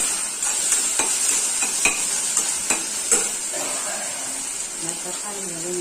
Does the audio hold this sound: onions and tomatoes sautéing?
yes